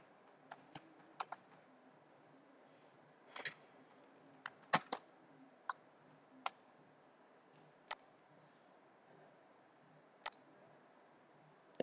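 Someone types on a computer keyboard in a quiet room while entering Python code, with sparse, irregular key clicks and short clusters of taps separated by pauses.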